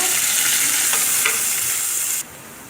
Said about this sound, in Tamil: கருவேப்பிலையும் போட்டுட்டு வெங்காயமும் ஆட் பண்ணிக்கோங்க